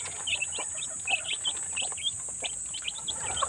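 Newly hatched chicks chirp in a poultry yard, a busy stream of high peeping calls, close and continuous, over a steady background hum.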